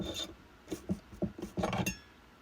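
A burr lubricated with Burr Life rasps through a series of short, shallow cutting strokes on a bezel, each stroke a separate gritty scrape close up, ending in a quicker burst of rubbing.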